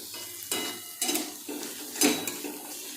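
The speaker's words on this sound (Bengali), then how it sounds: "বুঝতেই থাকবেন আমি কষাচ্ছি।" Chicken being sautéed in a pan, with a spatula striking and scraping the metal in bursts about every half second over a low background sizzle, close by and without talk.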